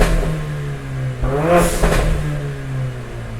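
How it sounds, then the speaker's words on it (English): A Mercedes CLA 45 AMG sits in neutral with its Armytrix exhaust valves open, loud and close: a steady rumbling idle swells into one quick rising rev, then settles back to a droning idle. "We'll put it in neutral just so you can hear the rev up."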